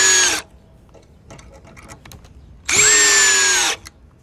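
Bauer cordless drills, a standard brushed model and a new brushless one each on a 5 amp battery, spin up in two short bursts of high motor whine separated by a quiet gap.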